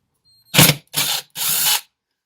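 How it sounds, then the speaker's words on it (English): An impact gun whirs in three short bursts, loud and close, while backing screws out of a Carter AFB carburetor during a teardown. "using these impact guns is a lifesaver as far as not stripping bolts out"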